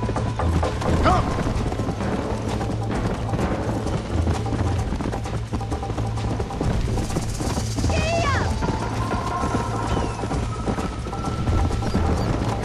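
Horse galloping in the video game Red Dead Redemption, a steady rapid hoof rhythm running under dense game music and effects throughout, with no clear talk over it.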